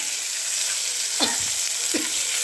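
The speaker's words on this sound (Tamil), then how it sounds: "சீரகம், கடுகு, இதை போட்டு தாளிக்கணும். நல்லா இப்படி பொரிஞ்சு வரும்போது" Cumin and mustard seeds crackle steadily in hot oil with a bright, hissing sizzle, with a couple of sharper pops standing out near the end.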